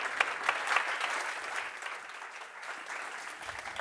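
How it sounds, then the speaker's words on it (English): Conference audience applauding at the close of a talk on AI, a steady dense wash of clapping from a sizeable crowd that holds for the whole stretch and eases slightly toward the end. "A big loud applause."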